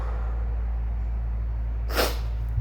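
A single abrupt, close sneeze from a man with a cold bursts out over a constant low hum, with no talking around it.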